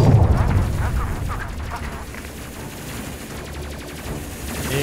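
Side-mounted auto cannons pound enemy shields in a space combat game: a heavy burst of booming shots up front, then rapid rattling fire and crackling impacts continuing loudly at close range.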